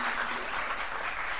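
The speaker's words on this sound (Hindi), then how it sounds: "तालियां।" A short burst of dense, steady applause from a studio audience on a Pakistani morning TV show, greeting a singer as she comes on. Loud and close, it fills the moment without a break.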